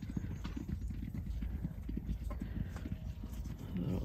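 A pony's hooves clip-clop in a steady rhythm, moderately close, with faint background noise.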